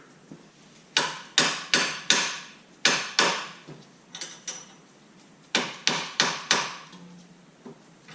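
Hammer taps on the nut of a ball joint bolt during CVT transmission removal on a 2013-2019 Nissan Versa Note: sharp metallic strikes in quick clusters of three or four, close and loud, with short pauses between groups.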